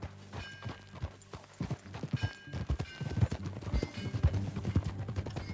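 Horse hooves clip-clop in a steady walking rhythm in Red Dead Redemption 2, growing louder and denser as the animals draw closer.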